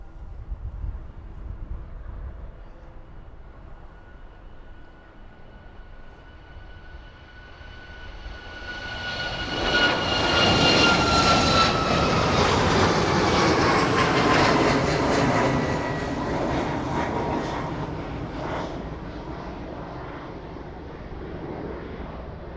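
A passenger jet takes off at East Midlands Airport in the evening, its engines swelling from a distant hum into a loud, broad roar around the middle before easing off as it climbs away.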